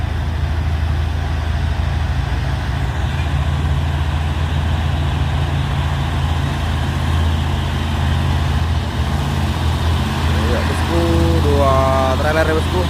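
Two trailer trucks labor along a hill road, their engines a steady low rumble throughout, with a rising horn-like tone sweeping near the end.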